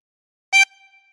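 One brief blown note on hole 13 of a 24-hole tremolo harmonica, a bright buzzy chord lasting a fraction of a second, clear and unaccompanied, then fading with a faint lingering ring.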